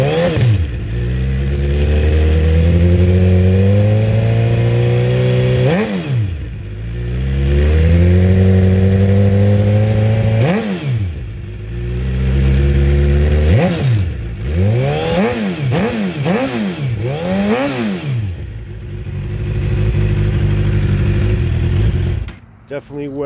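A 2006 Suzuki GSX-R 750 sport bike with 16,000 miles revs repeatedly, the engine note climbing and falling in loud, close, sweeping bursts over a steady idle, several rises in quick succession near the end.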